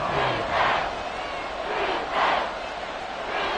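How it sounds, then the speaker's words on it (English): A football stadium crowd cheers and roars ahead of a big third down, the noise swelling in waves over a steady broad din. "the crowd getting into it as we come up on a big 3rd down"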